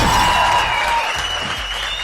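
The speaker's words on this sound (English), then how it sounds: "let me hand clap that" A burst of hand-clap applause plays as a sound effect on a K100 radio show, a loud, dense clapping layered over a steady tone for about two seconds.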